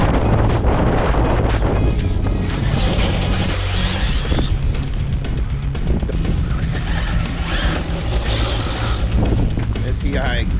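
Typhon EXB RC car on Jetko Limitless tires crunches and scrabbles over gravel, with loud gusty wind buffeting and sharp bursts of motor and stone noise, while a voice talks over it.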